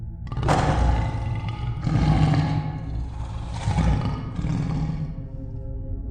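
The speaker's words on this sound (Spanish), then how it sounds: "y soltó un fuerte gruñido." A deep, loud roaring growl from a large creature, rising in several heavy surges over a few seconds with no talking.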